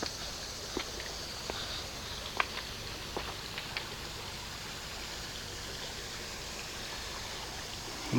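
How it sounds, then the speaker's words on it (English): Water rushing over rocks in a steep stretch along a city hiking trail, a steady broadband wash running throughout with a few faint clicks and footstep-like taps; no voices. "There's a little bit of rushing water."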